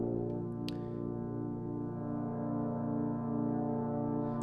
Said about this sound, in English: You can see we have these low chords with the tuba, the trombone, and the one of the horns.